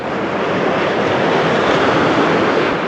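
Sea waves on the Baltic shore at Rozewie make a constant broadband rush, close and fairly loud, blended with wind noise and with no voices.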